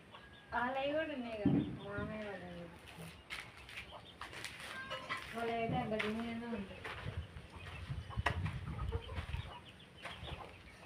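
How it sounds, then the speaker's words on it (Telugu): Chickens cluck and call in repeated bursts nearby in a chicken shed on a farm field, with a person talking intermittently over the birds. "అవేనా కోళ్ళు?"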